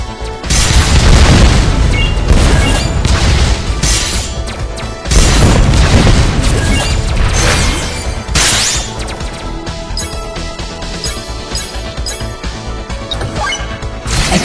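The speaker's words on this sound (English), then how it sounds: "Explosion strike." Heavy booming crashes from an explosion strike attack in the game Winwings, loud and dense, with two big blasts near the start and middle followed by a steady clattering barrage of impacts.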